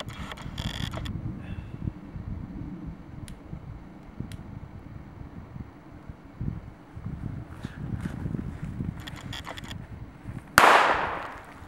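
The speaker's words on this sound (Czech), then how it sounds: "teď si ukážeme, co udělá mega petarda s tou flaškou" A large firecracker goes off beside a glass bottle outdoors, one sharp, loud blast near the end after a stretch of quiet rustling and light background noise.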